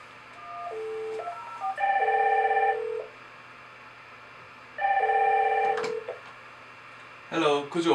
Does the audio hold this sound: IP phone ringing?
yes